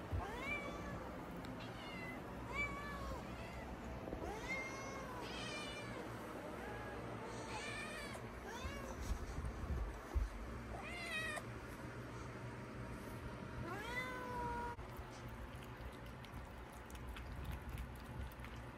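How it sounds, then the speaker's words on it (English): Several cats meow and yowl repeatedly, their rising and falling cries overlapping at close range against a low background hum. "You can hear them meowing."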